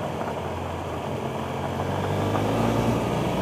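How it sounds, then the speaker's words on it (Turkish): A tractor drives by on a rural village road near Gülgöze in Midyat, Mardin: a steady, rumbling engine drone that swells slightly as it nears, with no talk over it. "Şimdi geldi solda traktörü"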